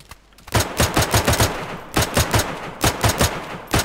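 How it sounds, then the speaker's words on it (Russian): Close, loud automatic gunfire in the survival game DayZ, bursts of rapid evenly spaced shots broken by short pauses, with no talking over it. "Кто стреляет?"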